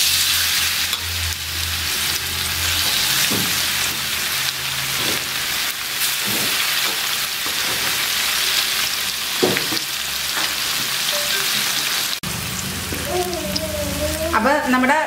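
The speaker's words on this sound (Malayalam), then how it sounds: "ബാക്കിയിരിക്കുന്ന മീൻ കഷ്ണങ്ങളും കൂടി നമുക്ക് അതുപോലെ വറുത്തെടുക്കാം." Fish pieces fry in hot oil, a loud, continuous crackling sizzle with occasional sharper pops, heard close up with little else around it until a brief voice near the end.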